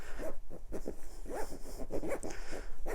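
A zipper slides closed along a foam dinette cushion cover for an R-Pod 179 trailer, heard as a series of short close rasping pulls with slight pauses between them.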